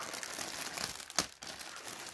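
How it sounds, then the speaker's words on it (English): Clear plastic packaging around an Adidas T-shirt is peeled open, crinkling softly throughout with one sharp crackling rip in the middle, close up and with no voices. "I like this easy peel packaging"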